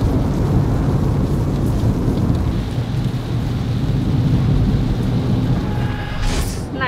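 Heavy rain pours down near the Chao Phraya River, a dense, loud, unbroken roar of rainfall that fills the whole stretch, with a brief faint tonal sound near the end.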